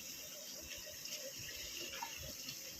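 Water runs steadily from a motor-fed, filtered supply in a village home, a continuous faint rushing flow like an open tap with no pauses.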